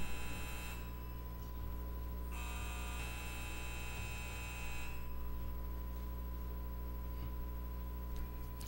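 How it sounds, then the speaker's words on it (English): Vote buzzers in a legislative hearing room ring as a steady electronic tone in long sustained bursts over a constant mains-like hum, fairly faint and distant with no talk. "as soon as those buzzers stop ringing"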